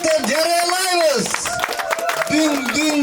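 Guests clap briefly at a Nooruz gathering around a dastarkhan meal, with someone speaking loudly over the scattered clapping and background chatter.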